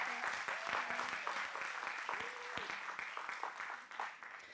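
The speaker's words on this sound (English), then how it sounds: "please give Ms. Chin Jiaowei a round of applause." Audience applause at a research launch event, a steady wash of clapping that fills the room for several seconds and fades slightly toward the end, with a voice speaking faintly over it.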